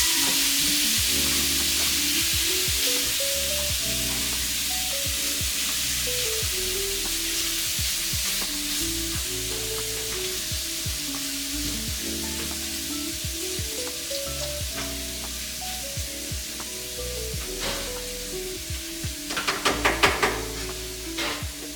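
Meat frying in its own grease for nachos, a loud continuous sizzle with crackling spatters and occasional stirring scrapes, while a melodic musical tone plays underneath throughout.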